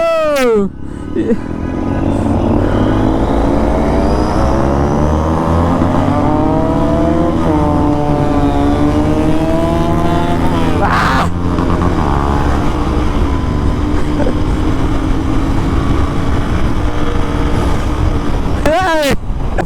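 A Royal Enfield Continental GT650 motorcycle ridden on a highway, its engine droning loudly and continuously with rising and falling pitch as it accelerates and shifts, wind roaring throughout and a voice talking over the ride.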